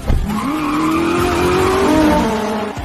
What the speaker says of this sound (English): Behind me, the roar of other race cars grew closer.